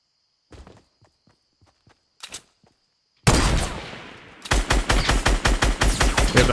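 In Fortnite, quiet footsteps and scattered taps give way to a loud burst of SCAR assault rifle fire, a sharp blast followed by rapid, evenly spaced close shots.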